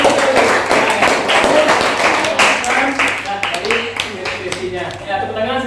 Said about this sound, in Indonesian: tepuk tangan sekali lagi untuk kelompok 2